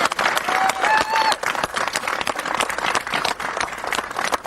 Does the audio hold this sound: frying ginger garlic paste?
no